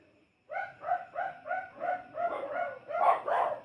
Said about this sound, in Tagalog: parang tumatahol yung mga aso dito sa kapitbahay mo doon